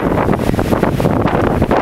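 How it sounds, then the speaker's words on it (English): Strong wind at an overgrown campsite buffets the microphone in a constant loud roar with gusty fluctuations. "It's really, really windy. Just howling."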